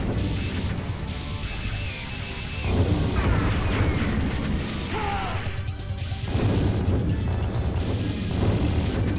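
Bomb explosions in the arcade shooter Special Forces crash and boom repeatedly in heavy bursts over a dense, constant game soundtrack, with no talking.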